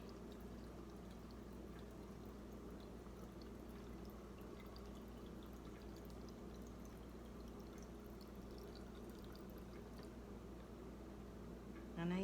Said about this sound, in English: So I'm gonna go ahead and just decant a bottle.